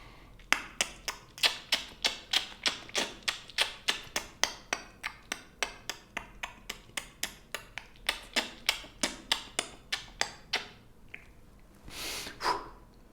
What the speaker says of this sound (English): So you're doing various different clicking sounds.